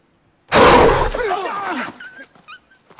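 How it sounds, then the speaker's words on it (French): A dog in a horror film lets out a loud, harsh roaring growl that breaks abruptly out of silence, bending downward over about a second and a half, then trailing into fainter cries. "Un chien."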